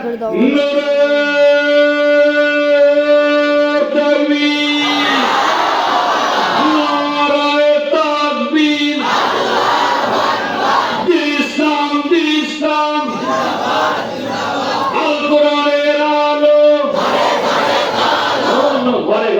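A crowd at a Bangladeshi religious rally shouts takbir in loud, sustained unison, with several swelling waves of massed voices carrying over one another.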